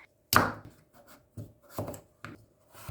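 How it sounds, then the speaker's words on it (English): A knife chops and slices through pumpkin on a board for a pinakbet vegetable stir fry, about six separate crisp cuts spaced irregularly, close and fairly quiet, with no talking. "Cut and slice the pumpkins and remove the skins"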